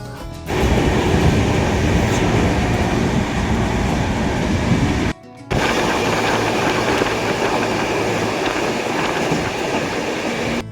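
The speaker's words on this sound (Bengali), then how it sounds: "আমাদের train one three double zero five Howrah Amritsar mail ছশো দশ কিলোমিটার যাত্রা শেষ করে" Howrah Amritsar Mail passenger train running, a loud continuous roar of wheels on rails with rhythmic clatter, briefly dropping out midway before resuming just as strongly.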